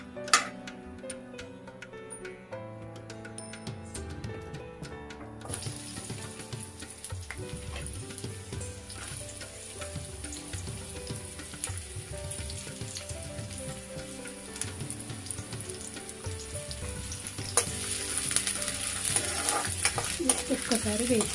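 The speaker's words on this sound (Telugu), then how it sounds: "ఇప్పుడు ఆనియన్ వేసుకుందాం" Onions frying and being stirred in a pan in a home kitchen, with a steady sizzle, scraping stir strokes and music playing throughout; the sizzle grows brighter toward the end.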